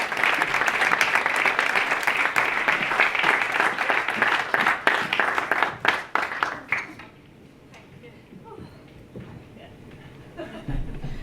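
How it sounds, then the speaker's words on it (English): Audience applause fills a gala ball hall, a dense, loud burst of clapping with some chuckles that fades out after about seven seconds into quieter room murmur. "give her a round of applause"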